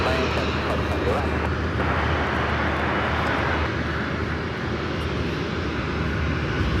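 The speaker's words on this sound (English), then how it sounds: "This flight heading to Chicago here, flight 2850, a 737-800." A Boeing 737-800 airliner on a Chicago-bound departure from Washington runway 19 gives a steady, loud, broadband jet engine roar throughout, with talk over it.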